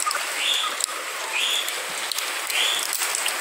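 Steady rain falls over a fava bean field during harvest outdoors, a dense, even hiss of drops with a few brief sharper taps; a faint bird chirp recurs three times above the wash.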